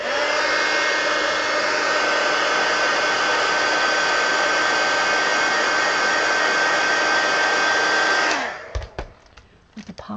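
A heat tool dries paint on a mixed media collage art card, a loud steady whirring blow with a high whine that runs about eight seconds and then cuts off, followed by a few faint clicks and handling sounds.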